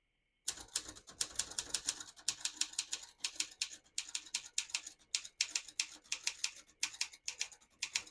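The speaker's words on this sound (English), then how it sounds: "I'll type a sentence on this next line." A 1969 Consul 232 portable typewriter is typed on close-up, crisp key strikes clattering in quick uneven bursts after a brief silence, with short pauses between words.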